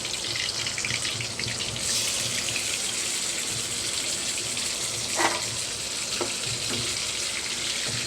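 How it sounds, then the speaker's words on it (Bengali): Fish frying in a pan on a single gas burner in a home kitchen, a loud continuous hiss and crackle throughout with a couple of brief utensil knocks near the end. "মাছগুলো ভেজে নেব।"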